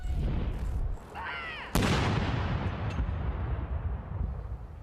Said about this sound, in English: A special cannon salute in London's Green Park and at the Tower of London for Queen Elizabeth II.